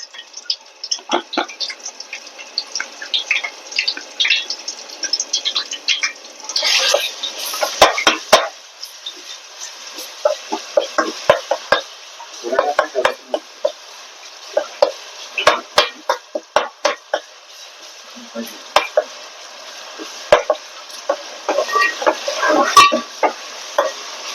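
Garlic frying in a pan for a crab curry, a continuous sizzle broken up throughout by frequent clinks and scrapes as it is stirred.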